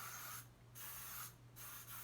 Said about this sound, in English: I'm spraying it again.